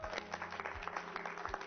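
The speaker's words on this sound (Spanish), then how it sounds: "hubieran dado un aplauso al Señor ahí conmigo" Church congregation clapping in applause, a quiet, steady patter of many hands heard from a distance, with a low voice faintly underneath.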